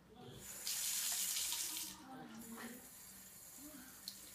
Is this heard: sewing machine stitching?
no